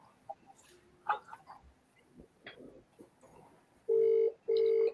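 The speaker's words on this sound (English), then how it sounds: "Can you hear the ringtone?" A telephone rings with two loud, steady electronic tones in quick succession near the end, after a few faint background knocks and rustles in a quiet room.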